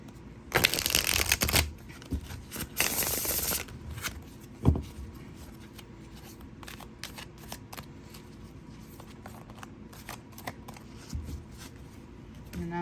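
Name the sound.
shuffling (stripping) a tarot card deck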